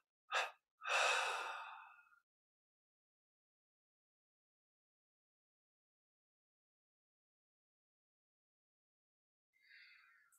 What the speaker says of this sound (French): Puis on prend une inspiration profonde. On expire en 3 fois et on arrête un instant de respirer.